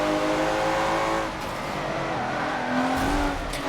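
Race cars in a racing video game pull away from the starting grid, a dense, loud roar of several revving engines rising in pitch and holding steady for a few seconds.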